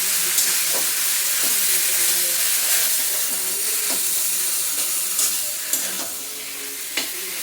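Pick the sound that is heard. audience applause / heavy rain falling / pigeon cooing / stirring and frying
stirring and frying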